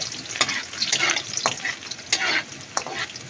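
Ginger and garlic sizzle in a hot pan while a utensil scrapes and stirs through them in irregular bursts, close and fairly loud.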